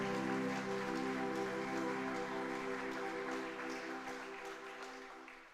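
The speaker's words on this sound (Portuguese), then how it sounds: "Vamos aplaudir ao Senhor" A church congregation applauds continuously, a soft, even patter of clapping that gradually fades, laid over a steady musical drone.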